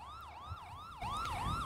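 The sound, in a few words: police car siren blaring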